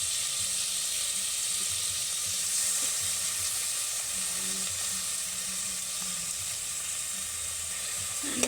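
Meat sizzles steadily in a hot pan as it is sautéed for a Filipino home-cooked dish, a continuous close frying hiss with small crackles and no voices.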